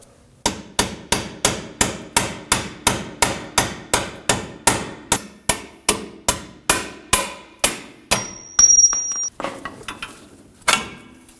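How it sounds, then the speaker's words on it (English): Steady hammer blows punch a control arm bolt out of the rear suspension of a 2016-2022 Honda Pilot: about twenty sharp metallic strikes in an even rhythm, then a few scattered clanks and a last hit, close and loud with no talk. "We're just going to punch this bolt out."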